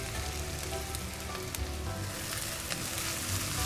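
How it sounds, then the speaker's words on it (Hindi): Grated onions sizzle steadily in hot oil in a kadhai, a dense, even crackling hiss with small pops, close and continuous with no talking. "चलिए प्याज डालते हैं इसमें।"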